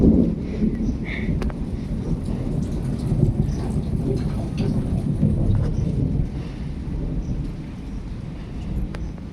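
A thunderstorm with steady rain pattering on surfaces and deep rolls of thunder rumbling nearby, continuous throughout, with a voice talking under the downpour.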